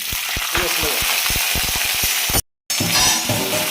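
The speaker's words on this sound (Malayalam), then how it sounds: "കടുക് പൊട്ടി തുടങ്ങിയിട്ടുണ്ട്." Mustard seeds crackle and pop rapidly in sizzling oil, sharp irregular snaps over a constant frying hiss, with a brief moment of silence partway through.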